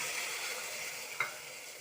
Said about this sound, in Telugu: ఈ పప్పు నీళ్ళు పోసేయాలి